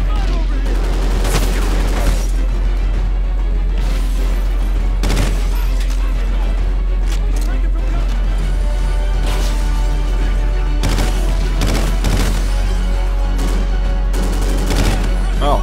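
Rapid gunfire bursts from the video game Call of Duty: Ghosts crackle and boom throughout, with a steady low hum running underneath and occasional voices mixed in.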